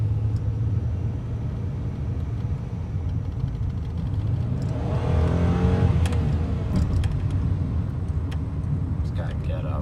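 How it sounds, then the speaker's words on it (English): A Chrysler car's engine idles with a low rumble, then revs and builds in a swelling surge midway before settling, heard close by with speech also present. "It's a good sounding car."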